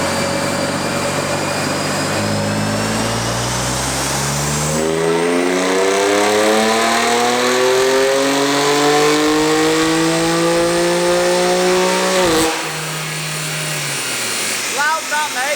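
A modified BMW M2 Competition engine revs hard and loud, pitch climbing steadily for several seconds before cutting off abruptly, then settling to a rumbling idle with a few pops.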